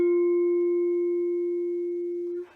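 A single vibraphone note struck with the pedal down and the motor off, a pure sustained metallic tone ringing evenly with no wavering, decaying slowly before being damped after about two and a half seconds.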